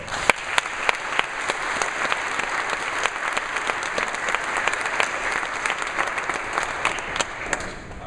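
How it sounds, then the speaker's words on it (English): Sustained applause fills a swimming awards ceremony at Lake Forest College, steady dense clapping from the crowd with a few sharper claps standing out, continuing for the whole stretch without speech. "Please give these two young ladies a round of applause."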